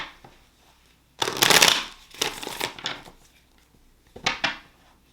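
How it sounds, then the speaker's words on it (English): A deck of tarot cards is shuffled by hand in several riffling bursts separated by short pauses, the crisp rapid flutter close and fairly loud. "One more shuffle."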